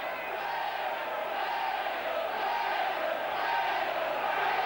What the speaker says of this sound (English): Wigan crowd roaring the team on, right behind them this afternoon in this cup tie.